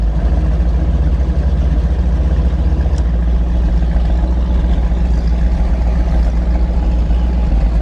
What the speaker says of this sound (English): The port engine's definitely peppier than the starboard right now because we just replaced all the spark plugs